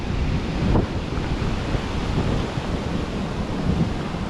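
Steady, blustery wind buffets the microphone at a trout fishing spot, a continuous broadband roar with no voices.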